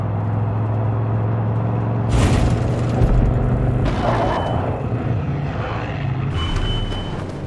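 Airplane flying behind the player in Far Cry 5, a steady loud engine rumble with a whooshing roar sweeping in around the middle, with no talk over it.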